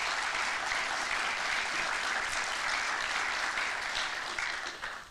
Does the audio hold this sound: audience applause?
yes